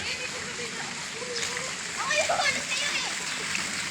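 Children splash and play in a pool at Coco Mountain Beach Resort in Montalban, Rizal, with light continuous water sounds and young voices chattering nearby.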